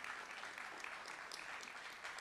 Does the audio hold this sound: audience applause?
yes